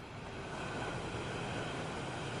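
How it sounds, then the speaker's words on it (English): A subway train rushes by with a steady, dense rumbling roar that stays loud and close for the whole stretch, with no voices. "A train suddenly passes by."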